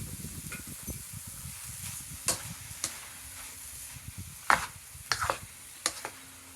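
Shrimp and broccoli stir-frying in a pan give a soft, steady sizzle that continues underneath, broken by a few sharp scrapes and clicks of a utensil stirring, heard close and quiet with no one talking.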